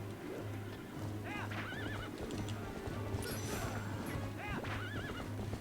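Ghostly spirit horses in Zelda: Twilight Princess whinny repeatedly and gallop with steady clip-clop hooves, loud and continuous over a looping game soundtrack, with no talking.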